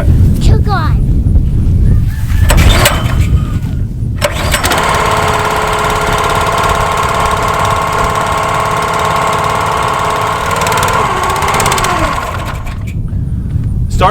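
A pull-start gasoline engine with the choke on: cord pulls and voices, then the engine catches and runs at a steady, loud, buzzing idle for several seconds before cutting off.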